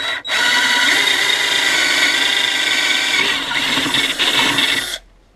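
A Black & Decker EGBL108 cordless drill whirs loudly and close in a single continuous burst lasting about five seconds, with a slight dip in pitch under load, then cuts off abruptly.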